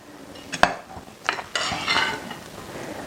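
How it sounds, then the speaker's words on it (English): Mango black bean salsa with lime being gently stirred in a bowl, giving a few soft clinks of a utensil against the dish amid quiet wet mixing, close by and without talk. "We're just going to very gently stir this up."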